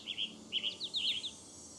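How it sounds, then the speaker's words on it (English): A tanager in the Nancy Drew game Ghost Dogs of Moon Lake gives several short, high chirping calls in quick bursts that are fairly faint and clear against a quiet background. "Where's the tanager? I just saw the tanager."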